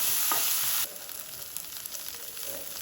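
Onions with ginger garlic paste and turmeric sizzle steadily in a pan for a pumpkin curry, loud at first and then softer, with faint scraping from stirring and no talking.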